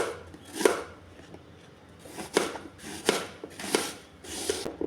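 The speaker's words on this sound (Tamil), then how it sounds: "பாருங்கள், இப்போ நான் ஆப்பிள் கட் பண்ணிவிட்டேன்." A knife cuts through an apple on a board in a home kitchen, giving five or six crisp separate chops spaced unevenly, close and fairly quiet with no talk.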